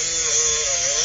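A Dremel rotary tool grinds through the shackle of an extra heavy-duty commercial padlock, a loud, steady high-pitched whine with a rasping cutting edge, continuous and close.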